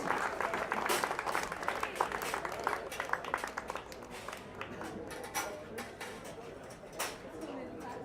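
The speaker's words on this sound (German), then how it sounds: "Noch einen kurzen Applaus, herzliche Gratulation" Audience applauding at a rowing regatta award ceremony on Lake Sempach, with dense clapping that starts strong and gradually thins while a voice speaks over it.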